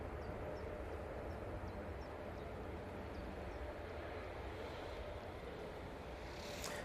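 A Ryanair Boeing 737-800 with split scimitar winglets, arriving from Porto at Manchester Airport, gives a steady, broad jet engine roar that holds at moderate loudness throughout, heard from a distance with no talk.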